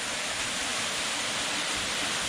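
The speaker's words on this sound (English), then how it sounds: "So basically the whole thing is a waterfall now." Water rushing down inside a cave, now pouring as a full waterfall on a spring day, makes a steady, dense roar that holds constant and fills the space with no breaks or voices.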